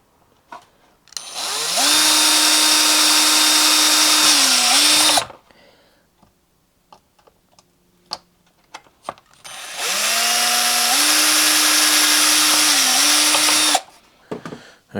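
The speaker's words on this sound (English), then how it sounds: "Just use a small drill bit, just a fine drill bit there" A small electric drill with a fine bit drills holes for small screws during a model plane build, whirring in two bursts of several seconds each, pitch dipping briefly under load, with quiet clicks and handling noises between.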